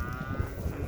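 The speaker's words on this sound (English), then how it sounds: "So these are our naughty sheep who kept going through" A single drawn-out bleat comes from sheep penned in a farm pasture, carrying over soft outdoor background noise with no talking.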